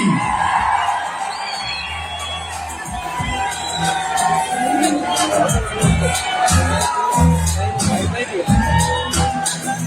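A large festival crowd at Thirunakkara Pooram in Kerala, with elephants paraded, cheering and whooping in a dense continuous roar of voices and shouts.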